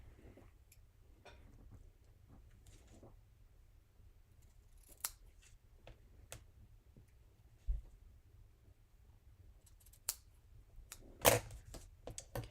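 Ribbon scissors make a few faint, separate snips in a quiet craft room, each clipped and sharp, with long pauses of near silence between them.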